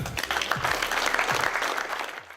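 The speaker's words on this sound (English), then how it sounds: "Clap it up." Crowd applause fills the room at a motivational talk, a steady rush of many hands clapping with a few close claps standing out before it tapers off.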